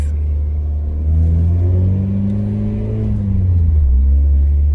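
A Renault Clio RS engine revs up and holds a loud, deep rumbling drone, rising and falling in pitch, close by with no talking.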